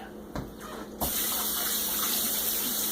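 Tap water runs steadily while mead-making utensils, including a spoon, are rinsed off under it. A brief splash comes first, then the flow grows louder and turns into a constant broadband gush with no voices.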